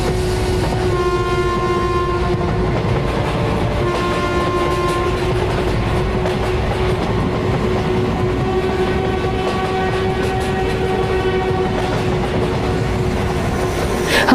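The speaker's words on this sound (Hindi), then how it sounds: "ट्रेन चल पड़ती है।" A train pulls away, with a steady loud rumble of railcars, metallic tonal hum and faint clickety-clack sustained throughout, no voices.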